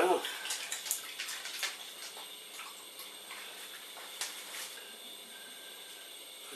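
Water runs in a fairly quiet steady splash while a lithium battery is washed off, with occasional clinks and a voice speaking faintly.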